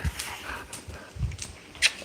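Two dogs moving close by indoors, with soft padding steps, panting and a couple of brief sniffs or snorts, fairly quiet and with no talking.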